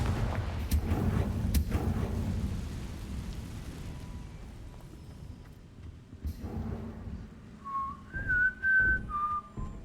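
A Confringo spell in Hogwarts Legacy lands as low booming blasts with crackling debris, followed by a softer rumble and a few high whistling tones near the end.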